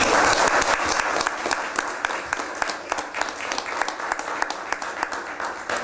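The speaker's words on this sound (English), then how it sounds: "I'd like to give these folks a round of applause" A crowd at a city council meeting claps continuously, dense and loud at first, then thinning slightly into scattered clapping.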